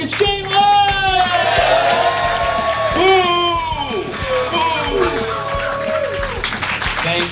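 A studio audience cheers, whoops and yells for the host of a comedy competition show, a dense, lively roar of many voices with individual shouts rising above it throughout.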